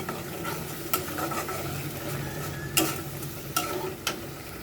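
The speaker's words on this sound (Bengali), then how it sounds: "এখন জাস্ট এটাকে তেলের মধ্যে ভাজা ভাজা করার পালা" Chicken grill with tomato sauce and butter frying in oil, a steady close sizzle with a few sharp scraping clicks of stirring, no voices.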